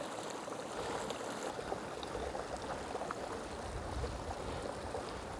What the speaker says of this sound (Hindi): पानी का एक और स्रोत